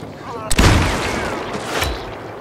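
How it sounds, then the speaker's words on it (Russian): A loud gunshot rings out in the video game Dying Light 2 on Xbox, a sharp crack followed by a rumbling tail, then a softer thump amid continuous game noise. "от выстрелов не просыпаются"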